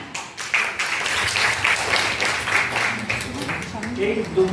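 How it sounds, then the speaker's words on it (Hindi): Audience clapping at an Independence Day patriotic function runs steadily underneath, with a voice talking over part of the applause. "एक बार और जोरदार तालियां मैम के लिए, छोटी मैम के लिए"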